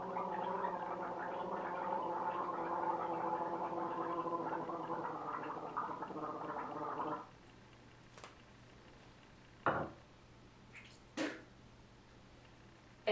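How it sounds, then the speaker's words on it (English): Vigorous gargling with a turmeric rinse bubbles loudly and continuously for about seven seconds, then stops, followed by a few short splashes and spits near the basin. "So I'll just demonstrate the gargling, and you do want to get a nice vigorous gargle."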